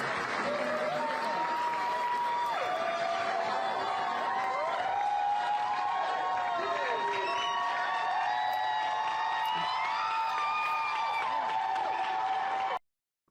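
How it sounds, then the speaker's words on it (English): A crowd in the Tennessee State Legislature chamber applauds as an expelled lawmaker returns, with loud sustained clapping mixed with cheering, whoops and many raised voices throughout. "to tremendous applause"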